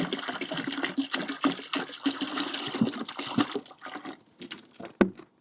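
Water and 6% vinegar poured into a bucket to descale a tankless water heater, giving a steady splashing, gurgling pour for several seconds before it tapers off, with a brief clunk near the end.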